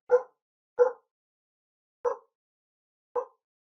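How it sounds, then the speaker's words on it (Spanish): Four single dog barks spaced apart, clear and moderately loud, with silence in between. "perros están ladrando."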